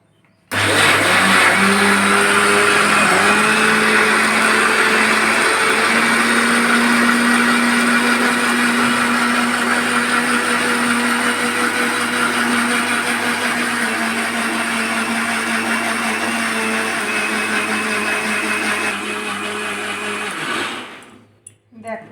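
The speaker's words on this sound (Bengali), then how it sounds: "এবার এটা মিক্সারে লাগিয়ে এবার এটা আমি পাতলা পেস্ট বানিয়ে নেব" A kitchen mixer grinder runs continuously for about twenty seconds, grinding overnight-soaked rice into a thin paste for pithe, a loud steady motor whine that winds down and stops at the end.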